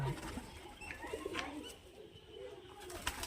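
Murshidabadi pigeons coo softly at the Bali Ghat pigeon market, a few low, faint calls with scattered chirps over a quiet background.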